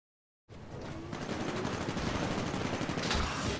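Dense automatic gunfire from fighting in the Titanfall video game, a continuous rattling fusillade that begins abruptly and keeps up moderately loud throughout, with no talk.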